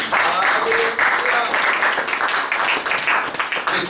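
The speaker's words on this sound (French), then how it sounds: "Acclamation pour le Seigneur." A church congregation applauds and cheers in acclamation for the Lord during a sermon, sustained dense clapping with raised voices mixed in, loud and continuous.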